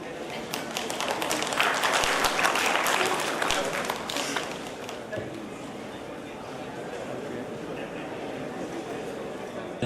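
Audience applause for high-achieving students at a community awards event, a broad, steady wash of clapping that swells early and then holds at a lower level, with voices chattering underneath.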